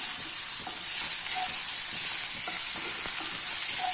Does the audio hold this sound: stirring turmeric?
yes